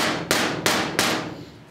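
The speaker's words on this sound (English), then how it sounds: "You're going to hammer it there, and when you get about to the middle, then you're going to angle it." Three sharp, loud hammer blows strike the metal grip plate of a revolver, evenly spaced, each ringing briefly before the next, with no talking.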